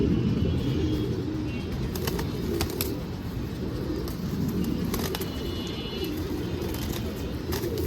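A male pigeon, one of several newly acquired pigeons, coos softly in low, repeated murmurs over a steady background hum, with a few faint sharp ticks. No one speaks.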